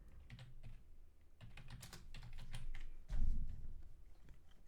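Rapid typing on a computer keyboard, soft clustered keystrokes in quick bursts with short pauses, close and fairly quiet, with no talking.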